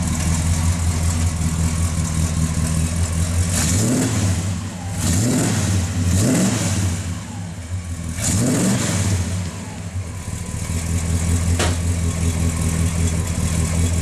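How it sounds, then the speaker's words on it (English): The exhaust of a 1967 Ford Thunderbird, heard from the rear, idles with a low rumble and is blipped through three or four sharp revs, each rising and falling back, loud and close. "Get that camera around back so you can hear that exhaust."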